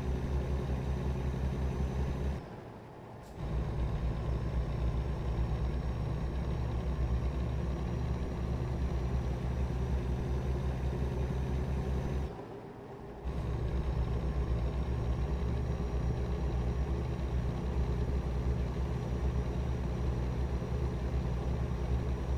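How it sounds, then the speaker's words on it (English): A truck engine drones steadily while driving in American Truck Simulator, a constant low rumble and hum that drops briefly twice during gear shifts before resuming. "It's just getting fairly relaxing, like the truck sounds, driving"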